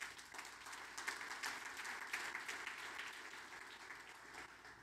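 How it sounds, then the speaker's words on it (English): Faint, steady applause from a conference audience at a BMC Exchange event in Chicago, a soft wash of many hands clapping for several seconds with no voices over it. "A big round of applause for Darren."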